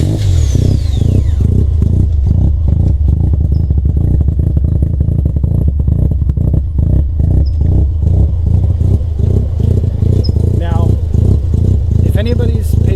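A 1988 Mazda RX-7 FC3S turbo is cranked and fires up. A loud, close rhythmic chugging settles into a rough, pulsing idle, with occasional clatter and a brief rise in revs near the end.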